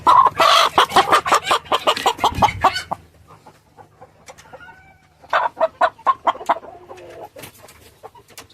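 Rasangi breed chickens, hens and a breeder rooster, cluck in rapid bursts close by, a dense run at the start, a quieter stretch, then another clear clucking burst with a few scattered calls.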